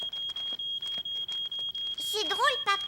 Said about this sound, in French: Mon pain a brûlé et la fumée a déclenché l'alarme.